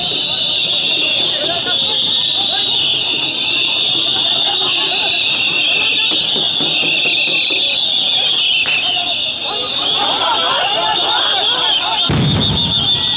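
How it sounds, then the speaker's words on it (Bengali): Police sound grenades go off at a street protest: a sharp crack midway, then one loud, close blast near the end, over constant crowd noise, a high sustained tone and voices. "আবারও সাউন্ড গ্রেনেড নিক্ষেপ, এবং পরপর দুইটি সাউন্ড গ্রেনেড কিন্তু নিক্ষেপ করা হয়েছে।"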